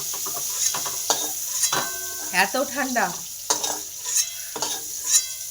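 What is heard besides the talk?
cauliflower frying and being stirred in a pan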